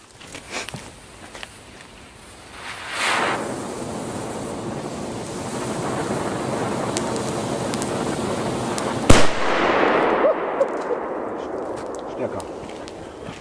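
A Sonic Thunder firecracker, the Austrian market version, goes off with a sharp bang after a fizzing fuse and a long hiss, heard outdoors and followed by fading rumble and light noise.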